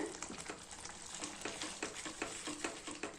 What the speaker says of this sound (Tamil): போட்டு நல்லா ஒரு கலக்கு கலைக்கலாங்க